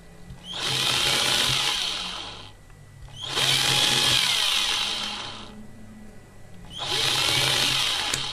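Three long bursts of a small power drill boring holes through thin recycled plastic sheet being made into a printed circuit board, each run lasting about two seconds with short pauses between, close and fairly loud.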